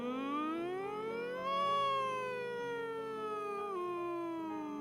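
A single voice glides smoothly up and down like a siren while humming, a sustained rising and falling tone with rich harmonics, close and steady, heard alone as a vocal warm-up imitation.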